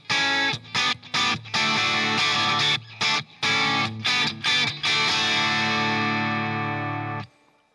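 Opening chord played on guitar through a distortion effect, struck repeatedly in short choppy bursts, then held as one loud sustained ringing chord that cuts off abruptly.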